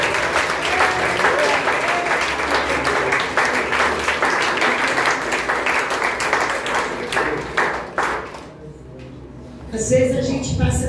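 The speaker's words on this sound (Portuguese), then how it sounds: "Aplauda Jesus." A church congregation at a communion service applauds in a loud, dense, sustained wash of clapping with voices mixed in, fading out toward the end before voices return.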